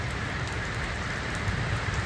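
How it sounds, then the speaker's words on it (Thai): Heavy rain pours down in a dense, steady hiss and patter during a road trip where travelers had planned to sleep in the car, loud and unbroken with no voices. "ฝนตกนะ ตกแบบแรงอ่ะ แบบว่าฟ้ารั่วเลย"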